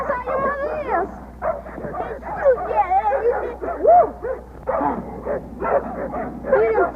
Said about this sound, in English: Man, see these dogs?